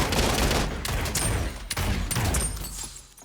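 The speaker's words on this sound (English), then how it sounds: "Sniper shot" Gunfire rattles through a fight in the video game Realm Royale, dense overlapping shots with a few sharper cracks standing out, loud and continuous.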